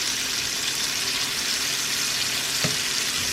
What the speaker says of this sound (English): our steak has been pan searing for 5 minutes, so I'm going to go ahead and flip to the other side